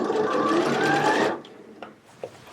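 A sewing machine runs close and clear as it stitches a jacket sleeve, whirring steadily for over a second and then stopping, followed by a few faint handling clicks.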